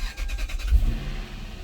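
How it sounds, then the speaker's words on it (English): A 2002 Lexus SC430 convertible with 130,000 miles cranks briefly and catches, then settles into a low, quiet idle close by. "Let's start the car."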